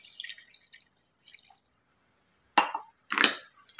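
Cold water goes into a mixer jar with lemon and salt for a homemade sugarcane-style juice, heard as two short, close splashes after a few faint drips.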